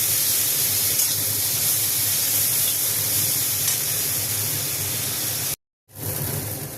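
Pumpkin flowers with prawns, garlic, chilli, salt and turmeric fry in a pan, a steady loud sizzling hiss that runs continuously, briefly cutting out near the end before resuming.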